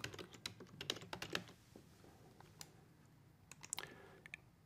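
Quick bursts of typing on a computer keyboard, soft, close key clicks in uneven clusters with short pauses between them.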